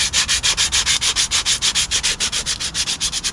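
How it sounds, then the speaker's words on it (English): Abrasive scuffing of a brake shoe and drum on an Austin Allegro rear brake makes a close, loud, rhythmic rasp of about twenty even back-and-forth strokes, with no talking. "so we're just giving it a little scuff up"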